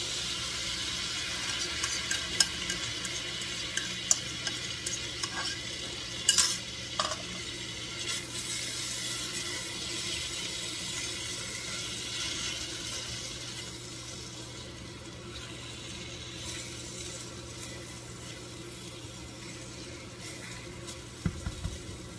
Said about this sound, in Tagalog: Konting halo-halo lang hanggang sa maihalo maluto ng konti yung itlog na hindi raw